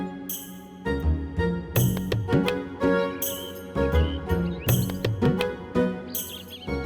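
Small birds chirp in quick, high bursts that recur every second or so, layered over a steady musical background.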